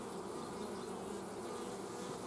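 Honey bees buzz inside a hive box, a dense, continuous, even drone from many insects, faint and unbroken with no voices.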